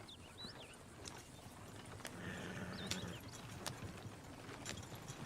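Horse hooves clip-clop at a steady walking rhythm in the video game Red Dead Redemption 2, fairly faint under a layer of ambient outdoor game sound, with no talk.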